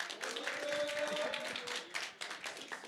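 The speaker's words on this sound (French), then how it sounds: "Mesdames et messieurs, c'était Nicolas, on peut l'applaudir bien fort" An audience at an opening ceremony applauds Nicolas with a steady wash of clapping that sounds moderately distant and fairly soft and lasts the whole moment.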